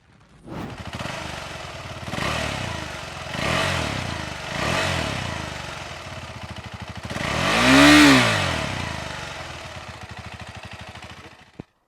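A 2023 KTM 390 Adventure motorcycle revs hard through several rising gear pulls in a 0-100 km/h run, each climbing then dropping, ending in a loud high-revving surge before easing off.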